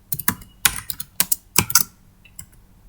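Keys clatter on a computer keyboard while writing in MS Word, quick close bursts of clicking keystrokes with short pauses between, no voices.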